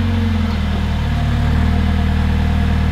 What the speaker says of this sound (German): So, ich starte jetzt also erstmal den Motor.